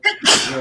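A single person sneezes indoors: a short sharp intake, then a loud, bright, explosive burst that trails off, with a brief word spoken alongside it.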